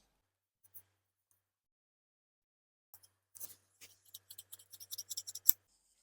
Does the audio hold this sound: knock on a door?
no